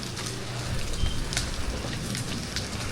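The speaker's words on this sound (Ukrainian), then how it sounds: "І щось дощик накрапає, такий дрібненький, неприємний." Light drizzle patters steadily at an outdoor market in Vietnam, a soft continuous hiss of fine raindrops with occasional sharper drips, close by and without talk.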